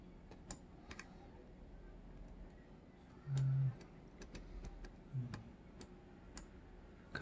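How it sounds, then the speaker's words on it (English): Small sharp clicks come from picking a Goal P Japanese pin tumbler lock, sparse and irregular taps close up in a quiet room, with a brief low hum in between. "small click, another click on three, getting some counter rotation on three"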